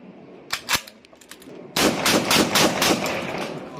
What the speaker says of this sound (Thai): ยิงลูกซองออโต้ต้องยิงแบบนี้นะ